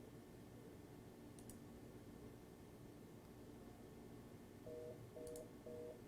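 Three short, evenly spaced tone bursts of a fast busy signal come through a telephone line over a faint background hiss.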